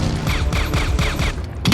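The Terminator 2 shotgun effect, built from layered sounds, fires as a rapid series of heavy booming blasts with mechanical clatter, loud and dense, about six reports in quick rhythm.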